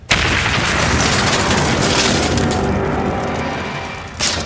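A cartoon bomb bursts inside a package with a loud, sudden boom, a single heavy blast that rumbles and slowly decays, followed by a short second thump near the end.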